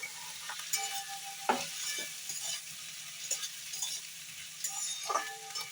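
Spring onion greens and vegetables being stir-fried for chilli baby corn give a soft sizzle broken by repeated scraping and clinking of a spatula against the pan, close and fairly quiet.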